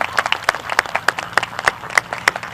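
Applause for a grand prize winner at a high school scholarships and awards ceremony, sounding as a modest scatter of separate claps from a small crowd, fairly close and steady throughout.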